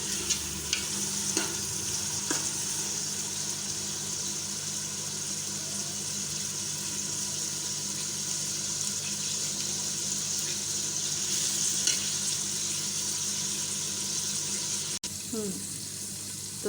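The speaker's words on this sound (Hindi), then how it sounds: "अब इसको हम 2-3 मिनट फ्राई करेंगे लहसुन अदरक को।" Garlic, ginger and green chili paste fries in a pot and gets stirred, giving a steady close sizzle with scraping stir sounds throughout, and a brief clatter near the end.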